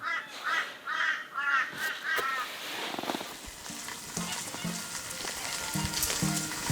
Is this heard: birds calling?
yes